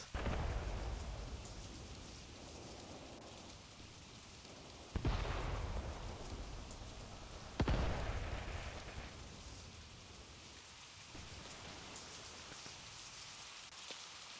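Steady rain falls throughout the Mius Front video game, a dense hiss of drops on surfaces with two sharp thunder-like cracks partway through, then the downpour carrying on alone.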